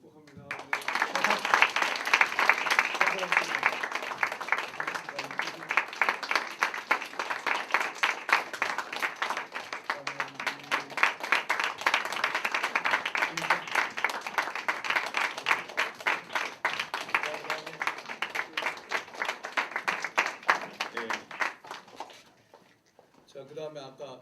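Sustained audience applause at a church college-group retreat, a dense rapid patter of many hands clapping for over twenty seconds before fading out abruptly.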